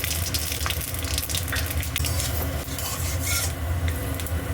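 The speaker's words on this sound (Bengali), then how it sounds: "গ্যাসে কড়া বসিয়ে দিয়েছি তেল দিয়ে দিয়েছি এটা গরম হয়ে গেছে আমি পাঁচ ফোড়ন দিয়ে দিলাম" Panch phoron spices sizzle in hot oil in a wok on a gas stove, making a dense, steady crackling hiss close by that never stops and has no voices over it.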